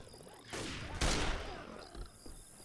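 Gunfire in Left 4 Dead 2 during the Dark Carnival campaign, two close, heavy blasts about half a second apart with a rumbling tail, followed by quieter mechanical clicks.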